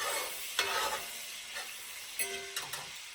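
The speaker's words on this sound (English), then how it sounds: "I'm gonna put a nice helping of minced garlic. Be careful because your garlic will burn very easily." Minced garlic frying in a pan for homemade spaghetti, a steady close sizzle with clicks and scrapes of stirring.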